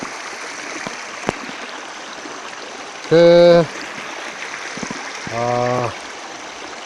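A river, badly damaged and left with mostly rocks, rushes steadily over its stony bed, a constant broadband wash that fills the whole stretch, while someone speaks briefly twice over the flowing water.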